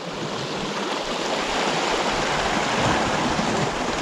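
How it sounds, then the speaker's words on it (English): Fast tidal current of sea water racing past a rocky island shore while lure fishing for bass on a spring day, a steady, dense rush of water that stays loud and unbroken throughout. "that tide is really, really racing through now"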